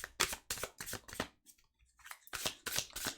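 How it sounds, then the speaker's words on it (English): Tarot cards being shuffled by hand, a quick run of crisp riffling bursts, a short pause, then another burst of shuffling, close and alone. "Okay, one more shuffle."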